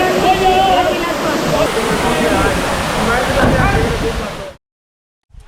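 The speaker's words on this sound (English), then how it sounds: "Oh, that waterfall is fun." A waterfall at Salto del Limon roars in steady, dense, broadband rushing, loud and close, before cutting off abruptly near the end.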